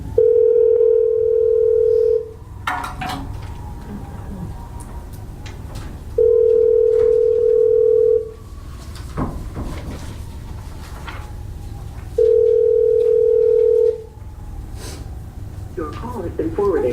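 Telephone dial tone from a courtroom phone while counsel is being called, three steady loud beeps of about two seconds each, spaced evenly, with low murmuring and room noise between them.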